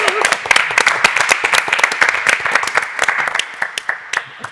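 A church congregation claps together in a dense burst of applause, loud and close, tapering into scattered claps at the end.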